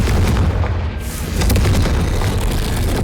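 A Confringo spell explodes in the video game Hogwarts Legacy: a loud booming blast with crackling debris and a rumbling low tail that persists for several seconds.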